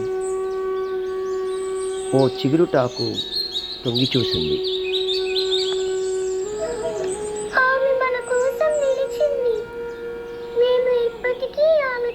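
Birds sing in the morning with bright, whistled calls and chirps over a steady tonal drone, with melodic phrases repeating close and loud throughout.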